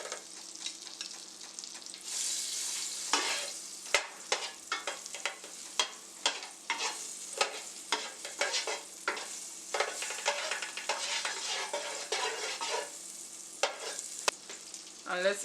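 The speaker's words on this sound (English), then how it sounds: "We're starting off by sauteing some vegetables." Vegetables sautéing in a pot, with a steady sizzle and frying hiss broken by repeated stirring scrapes and clinks near the mic, and no talking.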